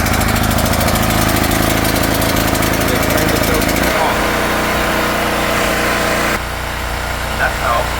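A portable generator engine runs steadily at close range with a loud, buzzing drone, then drops in pitch and eases down as it is switched off, leaving a quieter rattling hum at the end.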